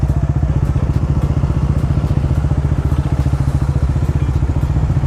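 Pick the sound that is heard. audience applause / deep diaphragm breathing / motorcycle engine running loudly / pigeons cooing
motorcycle engine running loudly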